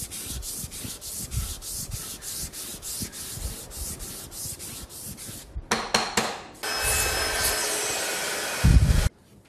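Wood is sanded by hand with 320-grit sandpaper folded over a block, close and steady. Rhythmic back-and-forth rasping strokes give way to a few quick passes, then a continuous rub at the end.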